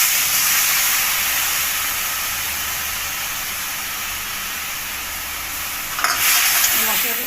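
Ground spices for a fish curry frying in a pan: a steady broad sizzle and hiss held at even loudness, near and continuous, with a brief flare and stirring near the end.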